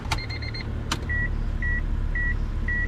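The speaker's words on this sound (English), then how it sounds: "That is the seatbelt buzzer" Seatbelt warning buzzer in a JDM Honda EF sedan with a B20VTEC swap, idle for two years: a row of short beeps and a click, then four evenly spaced clean tones over a low hum.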